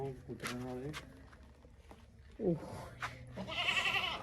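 A goat in labour gives a few bleats, some close and strained, separated by pauses, while people talk quietly nearby in an indoor or farmyard setting.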